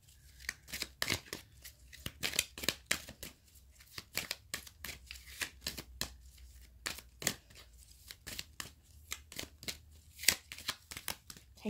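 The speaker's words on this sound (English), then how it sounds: "now I'm just going to shuffle the Life Loves You cards" Cards from a Life Loves You affirmation deck being shuffled, a rapid run of crisp riffling snaps and slaps in irregular bursts, close and fairly quiet, with no talking.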